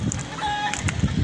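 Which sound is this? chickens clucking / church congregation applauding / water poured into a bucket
chickens clucking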